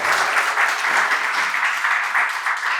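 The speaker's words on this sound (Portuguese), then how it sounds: "as palmas louvam o nome do Senhor" Congregation applauding during a church service, a dense steady wash of many hands clapping at close range, sustained evenly throughout with no talk over it.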